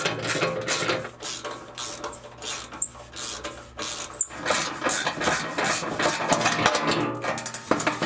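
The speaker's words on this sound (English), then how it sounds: "We're using 12mm socket." Hand ratchet with a 12mm socket loosening skid plate bolts on a Lexus GX, giving a steady run of fast clicking and metallic rattles up close, continuous over a background of shop noise.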